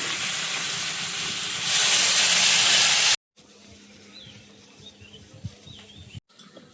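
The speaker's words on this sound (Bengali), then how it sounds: "আর এদিকে মাছটাও ভাজা হয়ে যাচ্ছে" Fish fries in a pan over low heat with a loud, continuous sizzling hiss that swells for about three seconds. It then cuts to quieter kitchen sounds with a few soft knocks.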